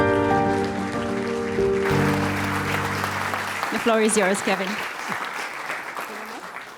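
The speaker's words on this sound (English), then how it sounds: "applause." Conference audience applause for a speaker: clapping noise runs under a sustained musical chord, which then cuts off as a person begins talking and the clapping fades.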